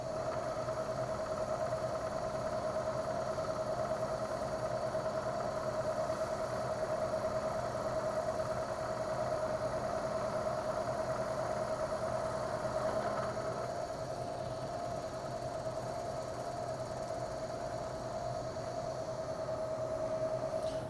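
A milling machine makes a steady face milling finishing cut on a part, with a continuous mechanical hum and a constant whining tone running the whole time.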